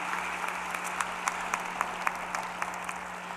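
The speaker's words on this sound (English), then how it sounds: "If we could have a brief round of applause for everyone who has worked so hard to make this day happen" The audience at a December 2024 UNC Asheville commencement gives a brief round of applause for the event staff and volunteers, a soft, distant, even patter of clapping over a low hum.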